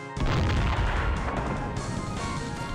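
A cannon fires in the video game Eternal Legends, a single heavy, booming blast that rolls on as a loud, rumbling roar.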